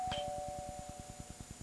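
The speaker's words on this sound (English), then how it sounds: "the doorbell's ringing, the doorbell's ringing." A doorbell chimes at moderate distance, a clear tone near the start followed by a steady rhythmic buzzing ring that repeats quickly through the short moment, with faint room noise underneath.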